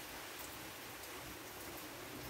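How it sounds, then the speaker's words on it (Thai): Rain falls outdoors on a rice farm, a steady dense hiss of drops that is soft and continuous and fills the whole stretch without a break. "บรรยากาศฝนตกกันครับ"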